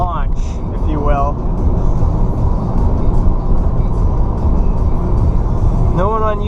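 A Honda Fit hatchback revs and accelerates hard on its final run, a loud, steady engine roar with a climbing pitch that carries throughout, with short whistling or squealing bursts at the start and near the end.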